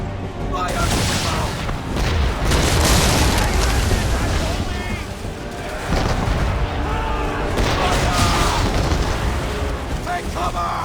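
Ship cannons boom during an Assassin's Creed III naval battle aboard the Aquila, a dense, loud barrage of overlapping blasts and rumbling impacts that keeps going throughout.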